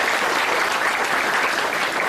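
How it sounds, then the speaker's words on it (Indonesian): Dense, sustained applause from a crowd at a Shivaratri night gathering, loud and steady throughout without pauses, with no voices rising above it. "Tepuk tangan."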